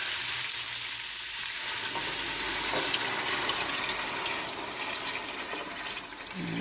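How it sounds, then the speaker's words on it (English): Four cups of water poured into a pot of beans in a home kitchen make a steady, close rushing splash that runs unbroken for several seconds and eases slightly toward the end. "And I'm going to add 4 cups of water."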